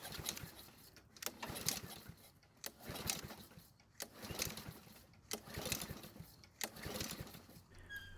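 Repeated pulls on the starter of a Honda-powered Blackmax lawn mower that fails to start, making a rhythmic whirring and ratcheting that rises and falls across several attempts without the engine catching.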